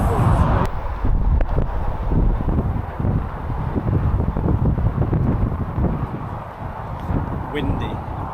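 Strong wind buffets the microphone on a coastal footpath near the sea, gusty rumbling bursts that rise and fall throughout, with a brief voice near the end.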